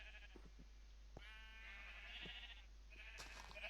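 Small horned lamb-sized sheep in a modded Minecraft survival game bleat in a few clear, wavering calls, one long bleat in the middle and shorter ones at the end, over a faint steady hum.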